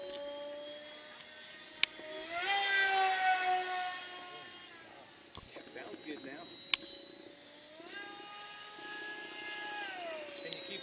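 An RC model airplane engine runs just below half throttle at an outdoor flying field, a buzzing whine that rises and falls in pitch from a moderate distance, with people talking at times and a couple of sharp clicks.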